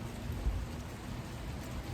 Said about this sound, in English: I'm gonna accept the fact that it's raining and make a video in the rain.